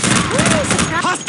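Rapid bursts of gunfire from Unreal Tournament 2004 team play with custom models, loud and close, overlapping with a character's shouted voice lines.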